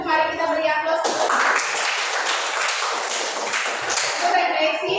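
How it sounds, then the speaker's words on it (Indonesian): A classroom of students claps together in a burst of scattered, close applause that follows a few spoken words and fades as talk resumes near the end. "Mari kita beri aplaus."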